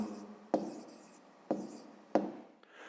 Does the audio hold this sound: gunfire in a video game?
no